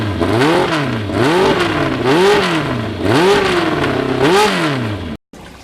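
A restored Yamaha FZR motorcycle with an aftermarket exhaust revs repeatedly, the engine note rising and falling in about five strong, loud, close cycles before cutting off abruptly.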